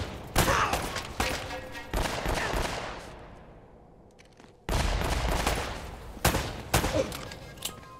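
Gunfire in Uncharted: Drake's Fortune: loud bursts of shots arriving in several clusters, with a quieter stretch of fading reverberant decay midway before the shooting resumes, close and dominant throughout.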